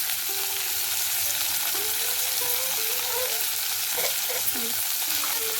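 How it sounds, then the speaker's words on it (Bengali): Okra sizzles steadily in hot oil in a home kitchen, a dense, continuous frying hiss with a few soft stirring touches, close and even throughout. "ভেন্ডিটা ভাজছি"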